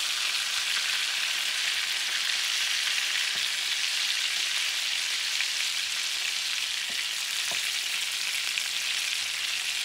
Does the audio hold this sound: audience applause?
no